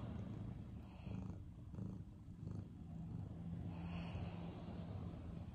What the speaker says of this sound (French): Elle ronronne en regardant dehors parce qu'il pleut.